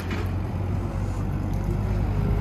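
A tractor clears ground at a rural enclosure site with a steady, continuous low engine drone and rumble, fairly loud and unbroken throughout, with no voices.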